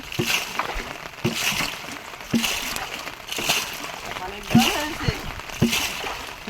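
Rainwater is bailed out of a river boat during heavy rain, heard as repeated sloshes and splashes of scooped water at an uneven pace, with a person talking over it.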